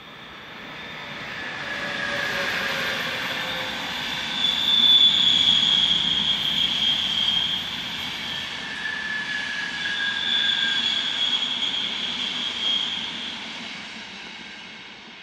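A EuroCity train runs fast through a loud curve at Brenner, giving a steady broad rumble with high wheel squeal that swells and fades over about fifteen seconds, with no talk.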